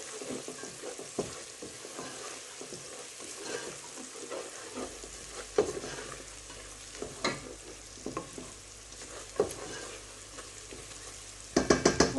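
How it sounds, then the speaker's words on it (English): A spoon stirs chili powder into spinach curry in a pan, soft scraping and stirring under a quiet background sizzle, with a few sharper knocks against the pan and a brief cluster of clinks at the end. "and just stir that in"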